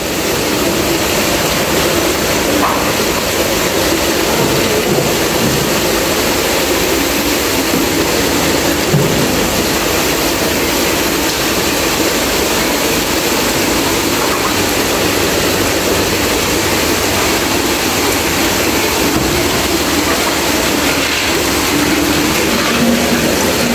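Water overflowing the rim of a fingerling tank on a fish farm, a continuous broadband rushing and splashing, close and steady for the whole stretch with no voices.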